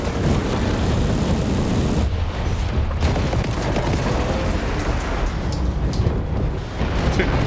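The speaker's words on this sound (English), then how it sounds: "That was a single missile volley, I think, or maybe it was 2 volleys" Missile volley explosions thunder in War Robots Frontiers, a mech combat game, as a dense run of deep booms and rumbling blasts with a sharp impact cutting in midway, loud and sustained.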